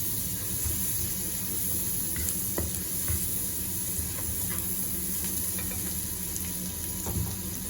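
Six garlic cloves sizzle and fry steadily in a pan, a continuous crackling hiss with occasional stirring scrapes, close and alone without talk.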